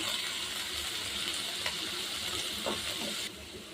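Chicken frying in a pan with soy sauce, a steady, close hiss of sizzling that drops off sharply near the end.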